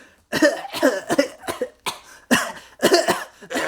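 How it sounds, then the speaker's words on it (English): A person coughs repeatedly in quick, harsh bursts, around eight coughs in irregular succession, close and loud with no talking. "I'm going to start coughing now"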